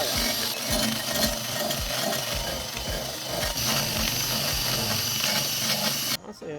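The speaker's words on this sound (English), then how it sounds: "Now we're going to try a ceramic wheel on the same drill" Continuous gritty grinding with a steady high whine, a power drill driving a ceramic abrasive wheel against a Lamborghini Gallardo engine part, loud and close, stopping abruptly near the end.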